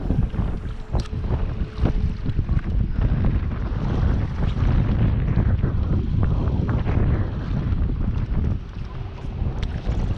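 Strong wind roars steadily over open water at the shore where stocked Atlantic salmon gather, the gusts buffeting the microphone in a loud, continuous rush with no voices.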